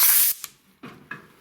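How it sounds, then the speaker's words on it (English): A shop air hose blasts compressed air on a Kenworth W900 truck during an oil change, with a loud hissing burst followed by a few shorter, quieter puffs close by. "Grab the air hose, put it on here."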